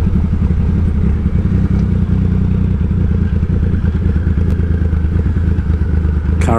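A Triumph Rocket III motorcycle with a sidecar drones steadily and loudly at cruising speed, with a constant low rumble, rattle and wind noise.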